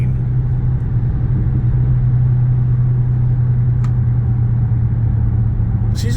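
A Dodge Charger Hellcat engine drones in a loud, steady low rumble from inside the car, downshifting without rev matching, with no distinct blip and only faint clicks near the end.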